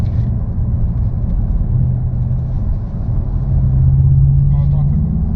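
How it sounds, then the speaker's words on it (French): A VW Golf 8 GTI Clubsport idling in neutral with a low, steady exhaust rumble that is close and even, with people talking over it. "On entend un peu quand même de son à l'échappement."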